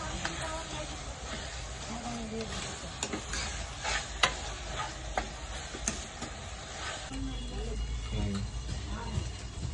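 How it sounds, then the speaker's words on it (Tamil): Food sautéing in hot oil in a kadai, with a steady sizzle and repeated scraping stirs, while people talk over the cooking throughout. "அது எண்ணெயில நல்லா வதக்கிற போடுங்க"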